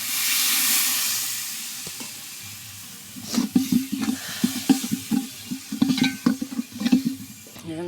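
Water poured into chicken masala frying in a pan hisses loudly in a steamy rush. It then settles into sputtering, popping bubbles that sizzle in bursts.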